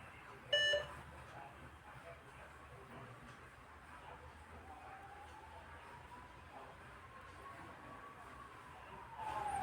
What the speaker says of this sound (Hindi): उसके बाद में एक बीप देगा, इसका मतलब ये ओके हो गया